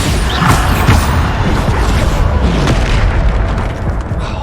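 Repeated Bombarda explosion spells in Hogwarts Legacy boom loudly and continuously, dense blasts and crashing debris overlapping with barely a pause between them.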